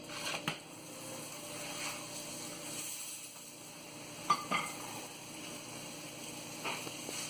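An aloo paratha fries in plenty of oil in a pan after being flipped, a soft steady sizzle at low level with a few brief utensil clicks and taps, near and unaccompanied by speech.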